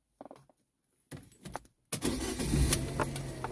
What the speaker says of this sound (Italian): Adesso andiamo ad accendere il veicolo